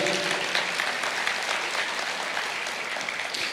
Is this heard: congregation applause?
yes